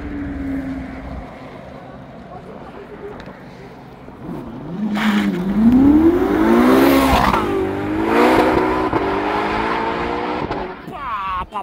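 Porsche GT3 RS 992 and Ferrari SF90 sports cars accelerating hard at a supercar meeting, with a rising engine roar that swells loudly from about five seconds in and holds with rising and falling pitch over a steady background rumble.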